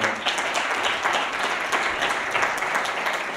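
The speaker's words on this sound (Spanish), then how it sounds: "un fuerte aplauso para Roque" Conference audience at a Sevilla Game 2017 talk applauds steadily, a dense wash of many hands clapping at moderate level throughout with no voices on top.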